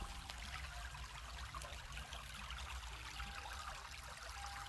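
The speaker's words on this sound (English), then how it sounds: "Now I want you guys to listen to the water that's going down towards Woodford Reserve." A creek flows beneath a small bridge on a Kentucky farm, a faint continuous trickle and babble of running water with steady low background rumble and no speech.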